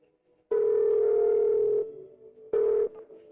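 A telephone call being placed, with a loud steady ringback tone sounding for over a second, then a pause and a second shorter tone, clear and close with no voices.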